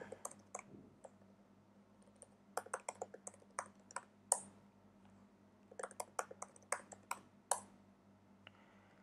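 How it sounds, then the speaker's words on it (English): A password is typed on a computer keyboard while setting up SSH on a Raspberry Pi: irregular, faint, close key clicks arrive in quick clusters with brief pauses, and no one speaks. "type the new password."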